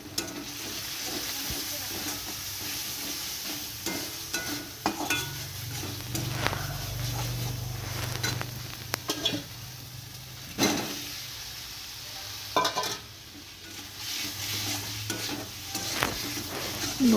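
New potatoes with turmeric being stirred and fried in a pan for a village-style dish, with a soft ongoing sizzle and repeated scraping of the spatula, plus occasional clinks.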